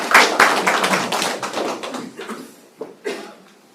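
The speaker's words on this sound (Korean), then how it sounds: "박수 한번 드려야 되겠네" An audience gives a short burst of applause that fades within a few seconds, leaving a couple of stray claps at the end.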